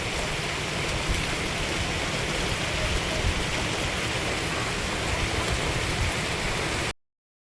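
Heavy rain pours down steadily outdoors over fields and grass, a dense, loud, unbroken hiss that runs without pause and then cuts off abruptly.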